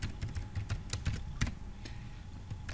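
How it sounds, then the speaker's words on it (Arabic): Quick, irregular keystrokes tap on a computer keyboard as a password is entered, close and fairly quiet, a scattered run of clicks with short pauses and no talking. "هاجي اكتب الباسورد"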